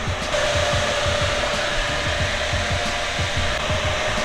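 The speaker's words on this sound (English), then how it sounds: "I am welding a cast elbow to the turbo housing for the 13" Welding a cast elbow onto a turbo housing for a 13B rotary FC RX-7 intercooler setup: a steady, close, loud buzzing hiss of the welder that runs continuously without pause.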